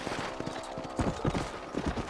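Horse hooves clip-clop in the Red Dead Redemption video game, a steady galloping rhythm of repeated thuds close by, with faint game ambience around them.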